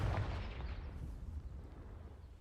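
A Confringo spell blast in the Hogwarts Legacy video game: a single booming explosive burst at the start that rumbles and fades away over a couple of seconds, with no talking.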